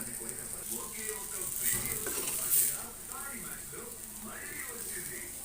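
Bitter gourd sesame fry with coriander stirred in a pan, with a soft steady sizzle and scraping spoon strokes, close by, while a voice talks over it.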